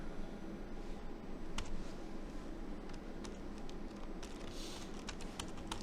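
Keys tap on a computer keyboard as Python code is typed, soft irregular clicks over a steady background hiss.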